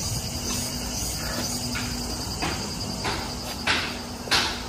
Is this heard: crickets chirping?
yes